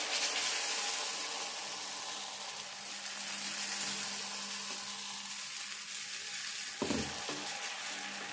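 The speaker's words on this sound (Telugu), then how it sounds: "ఇప్పుడు రాసుకున్నాక దోశ వేసుకుందాం" Oil sizzles steadily on a hot iron pan for a sago-peanut dosa. The frying hiss is continuous and close, with one brief knock or clatter near the end and no speech.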